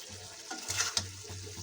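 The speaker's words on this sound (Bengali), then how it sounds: "আলু কষানো হোক।" Potatoes being sautéed in a pot for a fish curry with ripe tomatoes, giving a soft, quiet sizzle with a few stirring scrapes and a low hum underneath, no talking.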